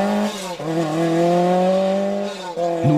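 A Lancia Stratos rally car with a 2.4-litre engine drives past, its engine note rising and falling in pitch with a brief tire squeal, loud and near, no talking.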